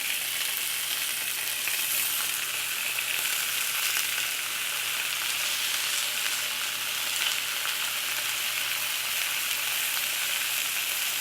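A spinach-stuffed steak roll frying in a hot pan gives off a loud, steady, close sizzle that holds without a break and with no talking.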